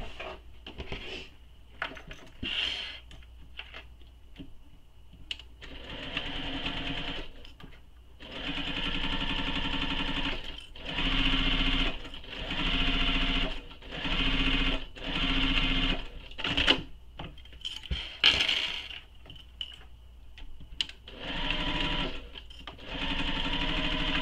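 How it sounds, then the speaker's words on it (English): A sewing machine stitches a seam on a clutch bag in several bursts of fast, even needle hammering. Short pauses and light handling clicks fall between the runs, and the machine is close and fairly loud. "Now we're going to sew this with the seam allowance given in the pattern."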